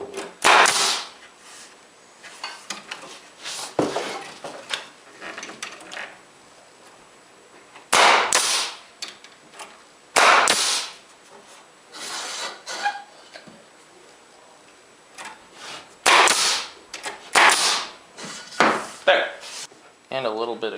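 A small plywood piece is nailed in with 1.5-inch finish nails while building workshop storage cabinets: a series of sharp, close wooden cracks in irregular clusters, with brief quiet gaps between them.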